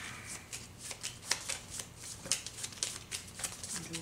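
Playing cards being handled and drawn in a DC Comics deck-building card game, a rapid run of soft, crisp card flicks and slides, close and steady, with no talking.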